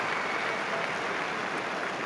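A tennis crowd reacting after a Roger Federer shot at the Rome tournament, a dense, sustained wash of applause and cheering, loud and continuous.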